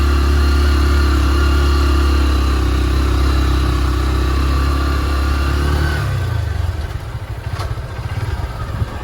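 A motorcycle engine idles close by with a steady, loud low rumble. Around six seconds the tone shifts and falls back to a rougher, lighter putter.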